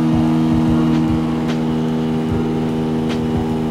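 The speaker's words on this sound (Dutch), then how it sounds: "Jongens, ik zit in mijn toerenbegrenzer." A Benelli motorcycle engine holds at high revs, a loud, steady buzzing drone with a slight wavering rhythm, as if bouncing off the rev limiter.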